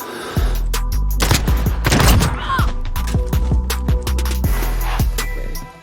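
Rapid bursts of gunfire and sharp shots from a Call of Duty Warzone match, dense and loud throughout with repeated thuds and close firing, no talk over it.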